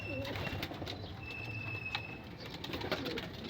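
Pigeons in a loft give soft, faint coos and rustling movements in a quiet indoor space, with scattered small clicks and flutters.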